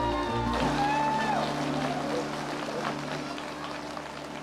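Audience applause at the LinuxWorld Conference as VA Linux Systems' president and CEO, the conference chair, takes the stage, a dense steady wash of clapping filling the hall with tonal sounds over it.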